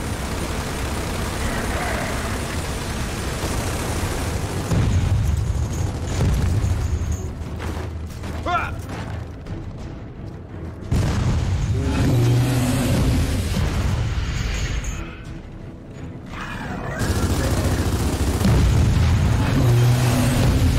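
Heavy gunfire and booming blasts aimed at an exposed core in Gears of War, a dense, loud, continuous barrage with rumbling low end and brief dips between bursts.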